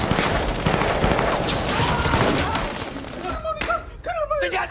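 Gunfire in an action film scene, a dense burst of rapid shots and impacts filling the first few seconds, loud and close, followed by scattered thuds and a voice shouting.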